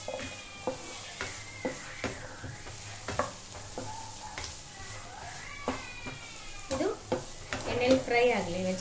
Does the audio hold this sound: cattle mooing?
no